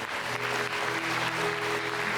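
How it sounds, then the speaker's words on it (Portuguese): A church congregation applauds together in a steady wash of clapping, fairly quiet and continuous, with a low hum of instruments or voices underneath. "E vamos aplaudir o Deus da vida."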